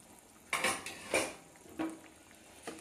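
A lid comes off a cooking pot with a metallic clank, followed by a few scraping knocks of a utensil stirring boiling potatoes in a home kitchen, close and quiet.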